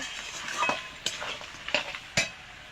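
Goat head meat stir-fried in a pan, a soft sizzle broken by a few sharp scrapes and clanks of a spoon against the metal, close up, no talk.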